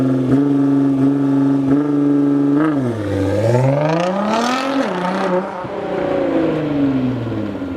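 A Lamborghini with a very loud exhaust drones steadily, then its engine note dips and climbs through revs as the car slides sideways, a close, harsh, continuous roar with no talk.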